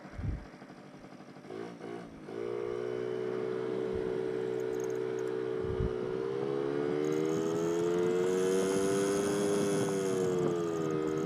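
A stock Yamaha Towny moped with an upjetted carburetor and changed air filter starts up and runs at a quiet, steady buzz, its pitch sliding upward as the automatic transmission shifts partway through, close up with no talk.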